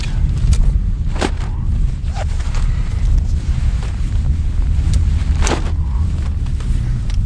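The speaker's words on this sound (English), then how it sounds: "And we got just enough wind to move them." Steady wind rushes and buffets across an open field set with a snow goose decoy spread, a loud, continuous roar with occasional faint crackles and no voices.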